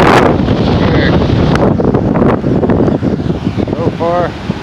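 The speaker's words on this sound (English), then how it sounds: "Wind blowing pretty dang good." Strong hurricane wind from Hurricane Sally roars constantly against the microphone over crashing waves. Someone speaks briefly beneath the loud gusts.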